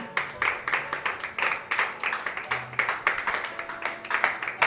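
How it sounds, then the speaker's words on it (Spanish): A church congregation at a Spanish-language Christian service claps in a loud, rhythmic unison beat, evenly spaced strikes repeating steadily throughout. "Denle un aplauso a Cristo."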